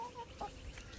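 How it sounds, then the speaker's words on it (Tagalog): Farm chickens clucking softly in a backyard in Australia, a few short calls over a low rumbling background, fairly faint and brief. "Yung mga manok natin. Hello, chicken! May manok din kami dito, guys."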